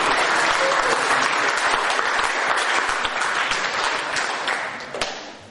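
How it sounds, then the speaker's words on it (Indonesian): Dense, loud audience applause at a summit gathering, a thick roar of many hands clapping together that holds steady before tapering off near the end. "Tepuk tangan kepada"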